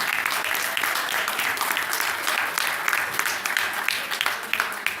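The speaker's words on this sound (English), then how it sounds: "one more round of applause for these young ladies." A round of applause fills a city council meeting chamber, honouring a group of girls. Dense, continuous clapping from many hands runs steadily throughout, close and loud, with no talking.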